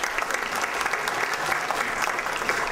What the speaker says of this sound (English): How about a little applause?